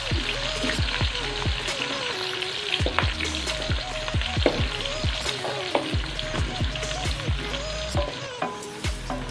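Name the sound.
onions frying in a pan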